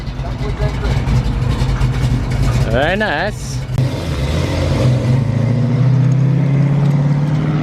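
A Nissan 350Z engine fires up and revs, a steady loud engine note that rises and settles into a strong idle, with someone talking close by over it.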